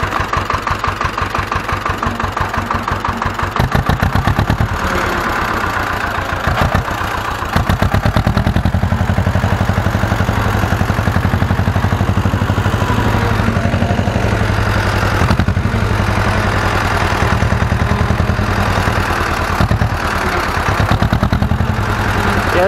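A Ursus C-325 tractor engine idles with a steady low throb, then revs up and pulls away, running loud and continuous close by for the whole stretch with no talk over it.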